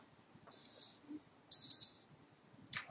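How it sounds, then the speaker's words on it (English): A laboratory timer alarm beeps in two separate bursts of rapid high electronic pulses, a third starting at the end, with quiet room noise between. "Forgot I had a timer on"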